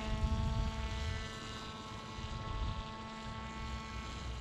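A Magnus effect RC trike flying with its spinning rotor, giving a steady, droning propeller-like whir with a tonal hum heard from a distance outdoors, continuous and fairly faint.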